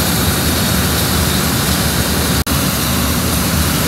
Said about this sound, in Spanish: En este botón se arranca el motor.